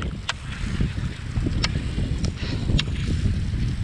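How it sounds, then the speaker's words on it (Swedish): Wind blowing outdoors by the sea in early-morning darkness, a constant low rumbling rush with a few sharp ticks and knocks scattered through it, and no one talking. "Blåser gör det också."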